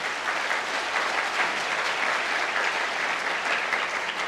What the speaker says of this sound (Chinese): 我们再给他掌声